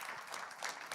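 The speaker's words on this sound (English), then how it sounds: "Round of applause for Nakul" Brief burst of audience applause for Nakul at The Hindu Huddle 2026 event, faint and distant, a dense wash of clapping lasting about a second.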